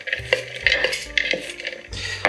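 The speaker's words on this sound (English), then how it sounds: "sliced up some red onions, some olives, the toasted salted almonds. Just mix those in a little bit." Spoon stirring red onions, olives and toasted salted almonds in a bowl, quick clinks and scrapes of metal against dish, close and fairly loud with no talking.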